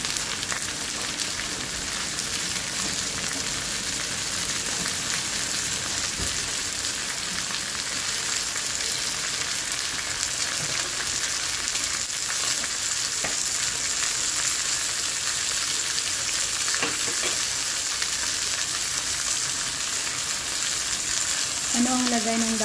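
Scallops sautéing in a hot pan, alongside asparagus and sweet bell pepper, giving a loud, continuous close-up sizzle that stays even throughout with no talking.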